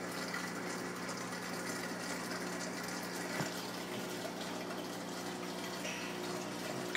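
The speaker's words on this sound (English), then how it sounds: "The only thing about this sump is it's so powerful that it's kind of loud." A powerful sump pump runs on a 220-gallon turtle and cichlid aquarium, giving a steady, unbroken rush of churning water at even loudness throughout. No one talks.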